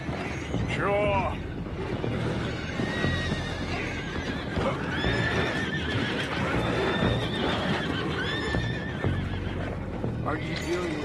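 Horses whinny and hooves clop in Red Dead Redemption 2, loud and close through the whole stretch, with a clear neigh near the start and another near the end, under steady game-world din and some speech.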